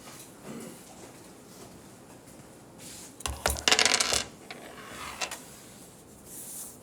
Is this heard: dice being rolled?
yes